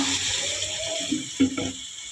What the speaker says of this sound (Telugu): ఇప్పుడు నేను కొన్ని వాటర్ పోస్తా